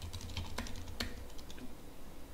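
Quiet keystrokes on a computer keyboard, a few sharper clicks standing out from a soft, steady patter, heard alone with no speech.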